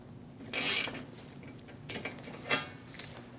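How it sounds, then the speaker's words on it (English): A stud installer tightens a stud on a car AC condenser for a 2016-2025 Chevrolet Malibu, giving a few short metallic ratcheting clicks and scrapes, close and fairly quiet, with no talking. "I'm going to use a stud installer and snug this down."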